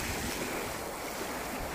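Sea waves wash along the seashore in a steady, broad surf roar with some wind buffeting the microphone, loud and continuous throughout, no voices.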